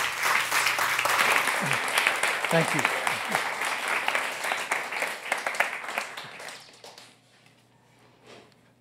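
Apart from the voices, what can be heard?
audience applause for a speaker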